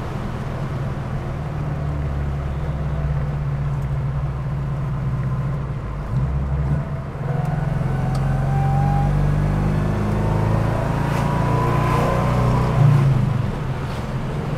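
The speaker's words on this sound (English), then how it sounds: "That exhaust note is good too. Wow. That's an American four cylinder." A 1961 Pontiac Tempest's single-cam American four-cylinder engine gives a steady, low drone with a throaty exhaust rumble, continuous and fairly close, swelling slightly partway through.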